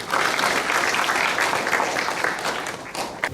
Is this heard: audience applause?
yes